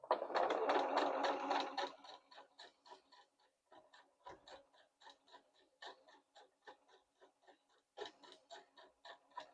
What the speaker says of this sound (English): I'm just doing a straight stitch